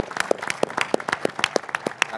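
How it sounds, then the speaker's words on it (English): Applause at a boxing press conference, a steady run of sharp, closely spaced claps from a room of hands, loud and continuous through the short moment with no talking on top. "a big round of applause for His Excellency for everything he's done for boxing so far"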